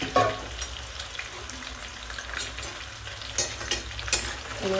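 Onions frying in oil in a pan for a north-style biryani, a steady close sizzle with soft crackles and a few brighter pops and stirring scrapes, no voices.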